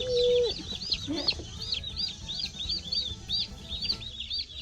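Chicks peep in a rapid, high series of repeated calls, close by, while a lower clucking call and a short tone sound early on, with no speech.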